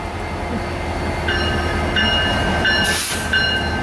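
A loaded CSX coal train rolls past with a loud, steady rumble, and high metallic squeals ring out intermittently over the rail noise.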